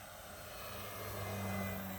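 An E-flite Carbon Z Cub SS 2.1m RC airplane flies at a distance, its electric motor a faint steady drone that swells slightly toward the end with a rising tonal whine, no voices present.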